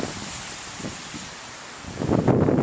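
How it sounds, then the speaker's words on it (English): Wind gusts outdoors, buffeting the microphone in soft rushes that swell into a stronger, louder blast near the end, with no voices heard. "see how it's getting windy again?"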